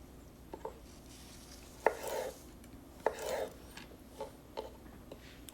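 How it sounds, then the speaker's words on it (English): A knife cuts thin slices of cucumber with several light, separate chops on a board, quiet and unevenly spaced, with no talk. "wash cucumber, make sure you cut off the seed, then you can slice them thin"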